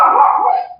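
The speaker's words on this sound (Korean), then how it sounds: "우리 개소리가 너무 크게 들리는데 소리 안 나게 할 수 있나요?" A single dog bark, short and loud, heard alone and close by during an online question-and-answer session.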